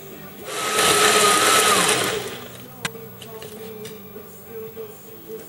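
A blender whirs loudly for about two seconds as it purees fishing berley, then winds down, followed by a sharp knock and some quieter clattering.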